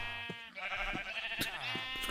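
Sheep in Minecraft bleat several times in short, wavering cries, with a few soft thumps and blocky game effects between calls; the bleats sound close and fairly loud, with no talking.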